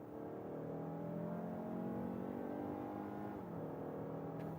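A 2026 Mazda CX-5's naturally aspirated 2.5-litre four-cylinder mild-hybrid engine with automatic transmission drones steadily and climbs in pitch accelerating from 60 to 100 km/h, with a brief dip like a gear change near the end, heard from inside.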